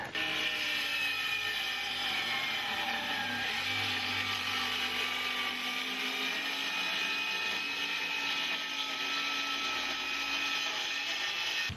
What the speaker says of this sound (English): now I should be able to plunge cut that and get my opening for my window